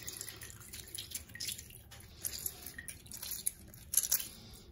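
Lemon juice squeezed through a sieve into water in a home kitchen, a soft run of trickling, dripping and wet squishing taps, fairly quiet and close, with no talking.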